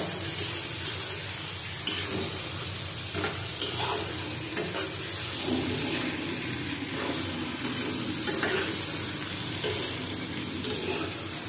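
Shrimp sautés with bitter gourd, papaya, pointed gourd and long beans in a pan. A loud, steady sizzle runs throughout, with the stirring heard as rhythmic scraping.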